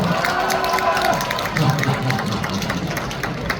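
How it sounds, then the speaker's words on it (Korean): A crowd at a bullfighting contest final in Changnyeong cheers and claps together, a dense roar with scattered whistles and shouts held steady throughout. "함성과 박수 한번 주시기 바랍니다."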